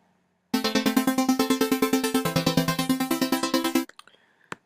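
A rapid, evenly spaced run of punchy, pitched hits from old self-made drum one-shot samples, bright and loud for about three seconds, then a few faint trailing blips.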